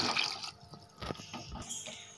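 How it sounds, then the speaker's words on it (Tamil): Water is poured into a pot of rice and soaked lentils while sambar rice is being cooked, giving short uneven splashes and gurgles up close. No voices are heard. "இப்போ தண்ணி ஊற்றிக்கலாம்"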